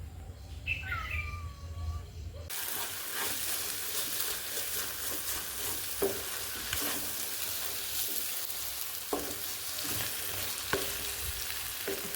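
Tadka tempering crackles and sizzles steadily in a hot pan for soya milk bhurji, a continuous frying hiss with small pops and stirring clinks, preceded by a brief quieter stretch with faint birdsong.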